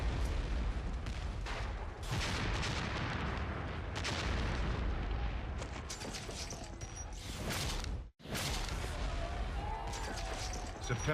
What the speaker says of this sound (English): New York is under fire.